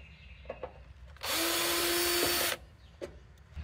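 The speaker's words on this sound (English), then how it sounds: "Take that screw out." A power drill backs a screw out of the top cover of a Mr Cool mini-split condenser, giving one whirring burst of just over a second between a few small clicks and handling knocks.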